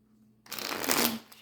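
A deck of tarot cards is shuffled in one quick riffling burst, close and crisp, starting after a short near-silent pause.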